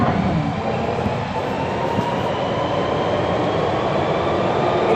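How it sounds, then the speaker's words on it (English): A train rumbles steadily past at close range, a dense continuous roar with faint rail clatter, loud throughout and with no voices. "That train."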